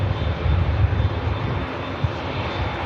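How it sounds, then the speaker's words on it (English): Airbus A380 engines at Manchester Airport roar as a steady, broad, loud rumble with no breaks, heard without any talk. "we keep our eye on that 380 and see see which runway it's being allotted"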